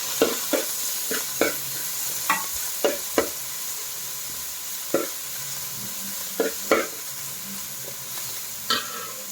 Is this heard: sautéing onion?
yes